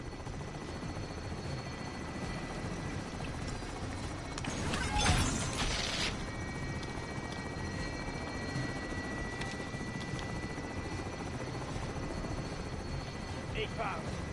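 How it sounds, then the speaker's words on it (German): A helicopter in a PS4 video game hovers with a continuous whirring rotor drone, steady and moderately loud throughout, with a brief burst of noise partway through and game voices talking over it. "Heli in Position für Einzahlung"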